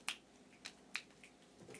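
Finger snapping in a room, three or four sharp, quiet snaps spaced irregularly over a couple of seconds, faint and alone with no talking.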